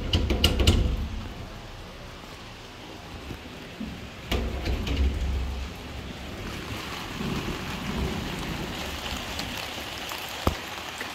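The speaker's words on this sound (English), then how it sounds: "So somehow I can hear the raining when the windows close." Steady rain heard from indoors through closed windows, a soft continuous hiss with a few louder knocks and bumps, no voices.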